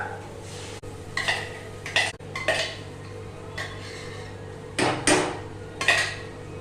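Spinach leaves go into a pan of spice paste for palak gravy and get stirred, with several sharp clanks and scrapes of a metal spoon against the pan, close and loud, separated by quiet pauses.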